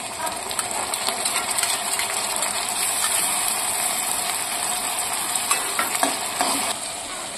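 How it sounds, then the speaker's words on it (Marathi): Tomato puree going into a frying onion, ginger and garlic masala for egg curry, a close sizzle broken by the scrape and clink of a metal spoon against the pan, with no voices. "आता घालून घेऊया टोमॅटोची प्युरी"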